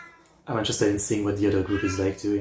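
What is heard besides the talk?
cat meowing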